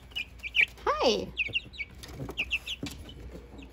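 Easter Egger chicks, a few days to three weeks old, loose indoors, giving short high peeping chirps and a few clucks scattered throughout, close by, with a brief spoken greeting among them.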